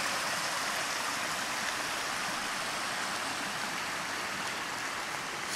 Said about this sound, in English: You see this wet line here, that's the water running out of this mine